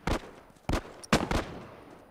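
Tactical shotgun blasts ring out in a multiplayer match of The Last of Us, with three or four sharp, well-spaced shots in quick succession, fairly close and loud, and no talking.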